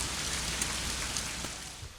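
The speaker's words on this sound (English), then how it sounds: "the rain has let up a little bit" Steady rain pattering on a boat being worked on outdoors, a dense, even hiss of drops that stays loud and constant throughout with no voices.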